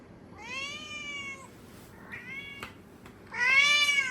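A cat meows clearly three times nearby, drawn-out rising and falling cries separated by short quiet gaps, the last one loudest.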